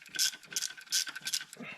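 A ratchet with a 1/4 inch 6-point socket clicks quickly while removing Torx bolts from a 2014 Ford Explorer water pump, giving short, close bursts of metallic ratcheting.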